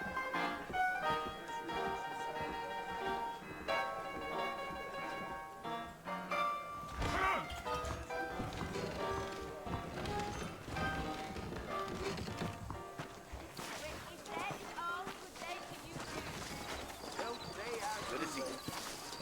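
Horse hooves clip-clop along a trail in the Red Dead video game, steady plodding under background music and scattered game sounds, with talk throughout.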